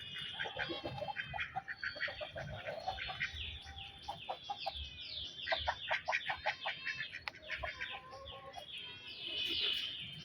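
Backyard chickens kept at home cluck and squawk in a busy overlapping chorus, with sharp repeated calls rising above steady low murmuring, close and fairly loud throughout.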